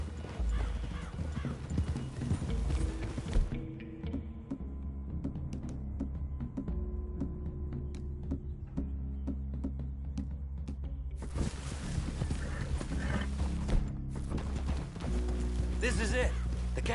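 Hooves clip-clop steadily on the ground as horses walk, with a whinny breaking through and low voices talking nearby.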